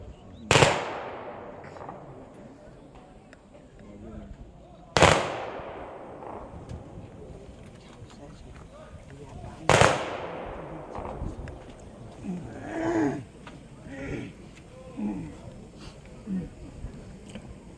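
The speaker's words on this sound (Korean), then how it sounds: "조총은 3회 발사됩니다. 조총 소리에 놀라지 않도록 유의하시기 바랍니다." Three sharp ceremonial rifle volleys from an honor guard at a memorial service at a national cemetery, each crack spaced about four to five seconds apart and echoing off, followed by quieter ambient crowd and spoken sounds.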